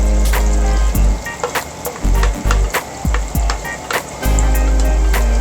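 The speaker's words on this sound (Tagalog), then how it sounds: "Gigisa na natin yung ating mga spices. Sa una, yung sibuyas. Sunod ang ating luya." Onion and then ginger hit a hot pan and sizzle loudly, broken by repeated clattering scrapes of a spatula stirring in short bursts.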